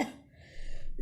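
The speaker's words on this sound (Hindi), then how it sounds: "दादाजी को तो इस हवन के धुएं से खांसी हो रही है" An elderly grandfather coughs once, a short close rasping burst from havan smoke, followed by a breathy pause.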